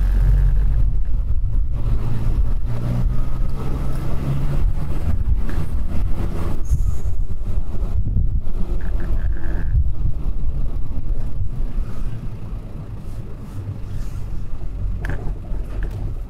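A car with a 13BT turbo engine on a test drive, a loud, steady low engine drone mixed with road and wind rumble, easing slightly toward the end.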